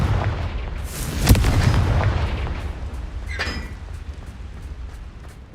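A Confringo spell blast in the video game Hogwarts Legacy: one loud, sharp burst of magical impact, with a rumbling low tail and a further crackling hit a couple of seconds later.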